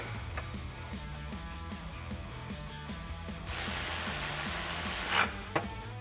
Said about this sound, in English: And I'll tighten those up into place with my 13mm socket.